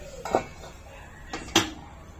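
A cooking pot covered with its lid after asafoetida goes into hot oil for dal khichdi, heard as two separate metallic clinks, the second sharper and louder, with quiet gaps between them and no talking.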